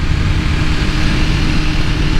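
A 2023 BMW S1000RR engine drones loud and steady at close range, a dense, buzzy roar that holds constant throughout the short stretch.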